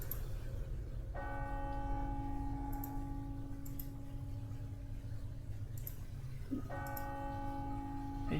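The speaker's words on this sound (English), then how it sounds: "Did you not turn those bells off?" Church bells ring in Planescape: Torment, sustained tolling tones that sound twice over a steady, faint background hum, with brief ticking clicks in between.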